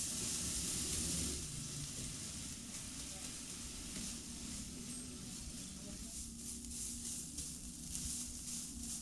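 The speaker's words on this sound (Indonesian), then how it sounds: "Kemudian aduk dan tumis, biarkan warnanya berubah." Beef or goat meat sizzles and hisses steadily in a hot pan as it is stir-fried, with faint scraping of stirring running under the continuous frying noise.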